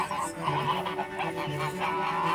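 Several geese honk repeatedly in nasal, overlapping calls, fairly close, with a continuous outdoor background near a pond in Kashubia, Poland.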